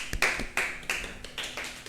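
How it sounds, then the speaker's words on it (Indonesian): A short burst of a few hand claps in a classroom, close and uneven, with sharp bright hits repeating several times before fading. "Berikan tepuk tangannya."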